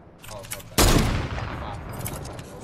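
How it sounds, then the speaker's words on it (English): Video game sniper rifle gunfire, with one sudden loud shot that rings out and decays into a noisy tail, following softer background game sounds. "Why? Oh, why am I getting shot by the sniper?"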